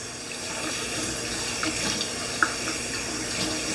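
Water runs and spills steadily into a kitchen sink while foraged dandelions are rinsed, a continuous soft splashing wash with a few small drips and clinks, heard up close and with no one talking.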